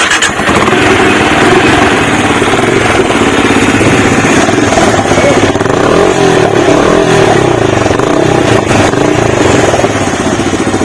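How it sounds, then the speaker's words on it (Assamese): A Benelli Imperiale 400 motorcycle starts and idles loudly at close range, its exhaust giving a steady thumping rumble with slight revving that holds throughout before easing at the very end. "মই আপোনালোক এতিয়া বাইকখন ষ্টাৰ্ট কৰি কিনে এক্সজষ্টটো শুনাম, এক্সজষ্টটো কেনেকুৱা।"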